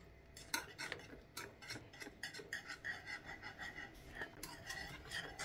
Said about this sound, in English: And then we're going to just whisk and infuse all of that